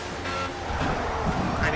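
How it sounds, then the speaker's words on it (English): Loud car engine roaring in a racing video game, a harsh, steady, close drone that runs throughout, with a horn-like tone on top. "That engine sounds way too loud though."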